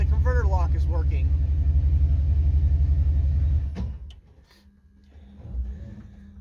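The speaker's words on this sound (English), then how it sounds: "if I hit this button, it'll lock the converter and it'll stall the motor" A car engine with a Ford 4R70W automatic transmission under MegaSquirt3 ECU control runs with a loud, steady rumble, then bogs and dies at about four seconds as the torque converter locks, leaving near-quiet with faint shuffling afterward.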